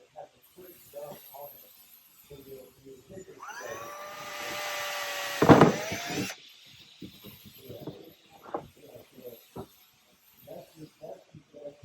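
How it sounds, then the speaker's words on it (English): A power drill whines up to speed and bites through a Molle panel on a Sprinter van seatback in one sustained burst, with a person talking before and after. "And drill straight through them."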